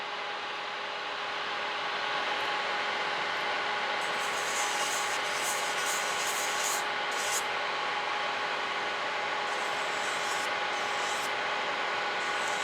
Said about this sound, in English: So I'm filing away old product